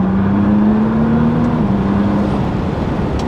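A Nissan R35 GT-R, returned to stock, drones steadily while being driven, a loud continuous cabin hum of engine and road noise with a low engine tone that rises slightly and then dips, without any talk.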